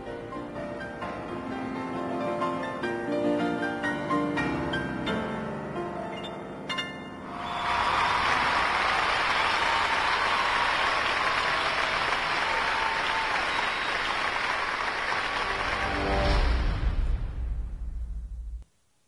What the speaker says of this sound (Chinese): 掌声有请钢琴家吴牧野出场